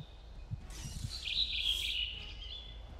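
A small bird in the Prime World video game gives a bright, high chirping trill lasting a couple of seconds over a quiet background, faint and alone with no voices.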